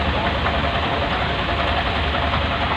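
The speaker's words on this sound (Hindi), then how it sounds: "फिलहाल जाम में खड़े हैं," Vehicles and motorbikes idling in a heavy road traffic jam, a dense steady engine rumble and hum that fills the space continuously, close and loud, with no clear breaks.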